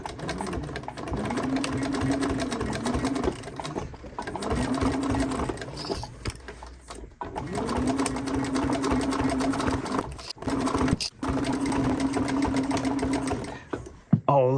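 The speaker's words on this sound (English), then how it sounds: "We're going to do a little back stitch." A sewing machine back stitches new canvas onto a camp chair, its fast steady needle hum running in long bursts with brief stops and restarts, close and loud, with faint speech at moments.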